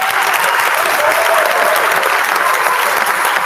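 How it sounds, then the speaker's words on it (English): Sustained applause from an audience at a school spring concert, loud, dense and steady throughout with a few faint voices mixed in. "let's give them another round of applause"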